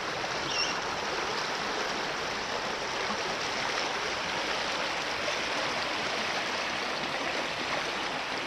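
Plenty River running low through Plenty Gorge Park: a steady, faint broadband rush of flowing water, even and unbroken throughout, with no talk.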